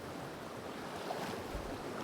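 Clear river water flows in Palin, Arunachal Pradesh, a faint, continuous rushing wash with soft low gurgles and no voices.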